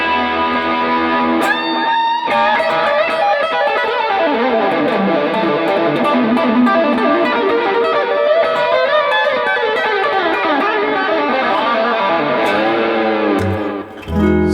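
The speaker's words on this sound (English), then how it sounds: "And then if you put some distortion and some delay," A Taylor electric guitar is played through distortion and delay, giving loud, sustained, saturated notes with sliding bends and echoing tails that ring on continuously.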